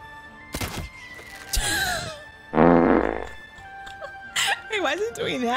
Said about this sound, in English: Why is it doing that? Why is it farting?